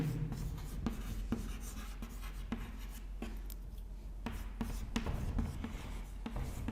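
Chalk or marker writing on a board during a history lecture, with brisk taps and short scratchy strokes at an irregular pace over a steady low room hum, clear and fairly close with no talk.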